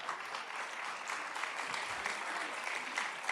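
A church congregation claps in praise during a sermon, a fairly faint, continuous spread of applause from a crowd heard at some distance.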